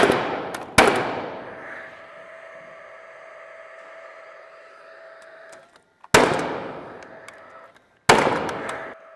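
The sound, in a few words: nail gun nailing subfloor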